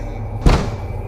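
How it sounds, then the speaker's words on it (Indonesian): A single dull knock lands in the middle of a quiet stretch, a sound effect in an Indonesian radio horror drama, with a faint hum underneath. "Dan terdengar suara ketukan-ketukan"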